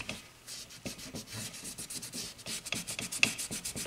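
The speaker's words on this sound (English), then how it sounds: "I'm just going to get in there and try to get some of that carbon buildup off" Quick back-and-forth scrubbing rasps over a car throttle body coated in carbon buildup and cleaner, a close, rhythmic rubbing repeated steadily with no talking.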